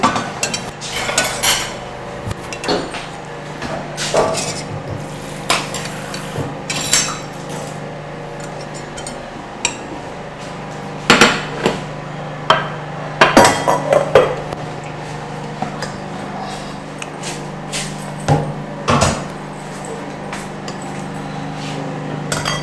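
Utensils scooping and serving folio pap and akara bean cake from cookware at breakfast: scattered metallic clanks and scrapes, some sharp knocks in clusters, close by over a low steady hum.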